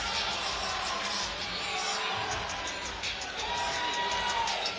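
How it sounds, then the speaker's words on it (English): An arena crowd at a Dirty Boxing fight event chants a fighter's name, a loud, steady roar of many voices sustained throughout with rhythmic swells. "They're not booing, they're chanting Stewie."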